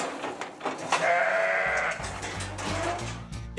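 A ewe bleats loudly and close by in a long, wavering call on a farm, followed by lower rumbling livestock noise and a few shorter bleats.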